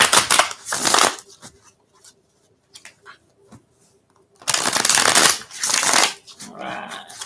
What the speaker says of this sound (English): give it a couple final shuffles for you